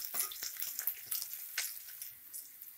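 Garlic frying in a pan for an avarekalu and beans bassaru, a soft crackling sizzle with a few stir scrapes, close but fairly quiet.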